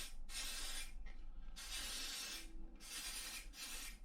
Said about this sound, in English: give this a good old spray